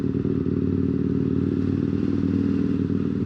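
A motorcycle underway, its engine a steady low drone with rumbling and wind rush, recorded close from the rider's position with no voices.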